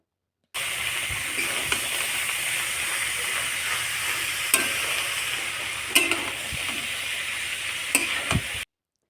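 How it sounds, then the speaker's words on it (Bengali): Grated papaya with spices and fried potato sizzles in a pan while being stirred, a continuous hiss broken by scraping strokes and occasional clanks of the spoon against the metal. "ভালো করে পেঁপের সঙ্গে সমস্ত মশলা মিশিয়ে নিতে হবে"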